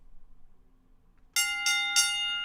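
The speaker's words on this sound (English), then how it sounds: "Ring the bell." A wrestling match bell rings three times in quick succession, bright metallic clangs that each ring out and overlap, loud and close after a quiet moment with no talk.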